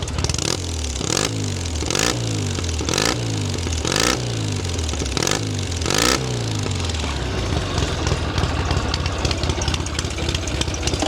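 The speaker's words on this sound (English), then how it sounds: "Sounds amazing with those pipes, but not too loud, slightly baffled." A freshly rebuilt Rickman Métisse 650cc desert racer motorcycle idles through slightly baffled pipes, a steady, fairly loud, close thumping burble with several blips of the throttle early on before it settles back to an even idle, with no talking.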